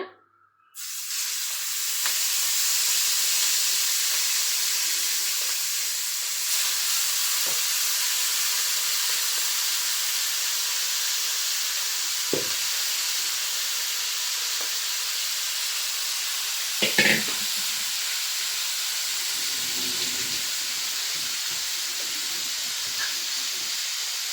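Prawns sizzle and hiss steadily in a hot pan of oil while frying for prawn pickle, a loud continuous crackle with a few clinks of stirring partway through.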